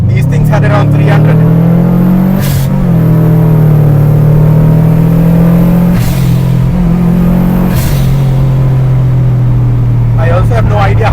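A tuned Subaru Impreza STi accelerates hard from inside the cabin, its engine droning loud and rising through the gears with brief breaks at the shifts. Someone talks over it.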